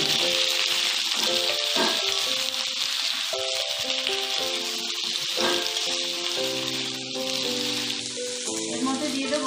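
Ridge gourd frying with potato and ginger in a pan, giving a loud, steady sizzle that runs throughout, with stirring clatter and tonal scraping of the spatula over it, close up.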